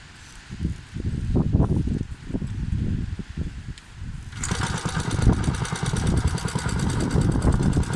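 A Bernard W239 engine on a Staub PPXS6 tiller runs steadily up close with a continuous mechanical drone. The tone shifts to a brighter, busier running sound partway through.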